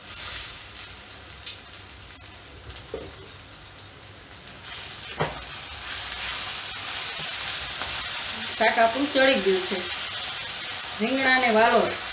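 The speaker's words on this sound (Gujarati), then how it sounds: "હવે આપણાને ધીમા ગેસે ચડવા દેશું ઢાંકણું ઢાંકીને એકદમ ધીમા ધીમા ગેસે એકદમ પાંચ મિનિટ આને આપણે ચડવા દેશું" Valor brinjal curry (valor ringna nu shaak) cooks covered on low gas with a soft continuous sizzle and bubbling, while someone talks over it in the latter part.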